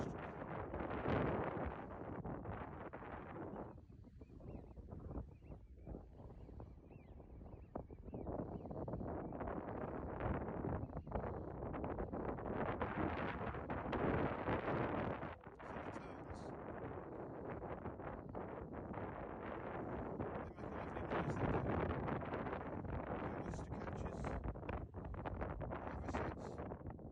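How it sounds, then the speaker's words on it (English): Strong wind roars steadily across an estuary shore at low tide, buffeting the microphone in continuous gusts with no voices. "Baltic, that wind."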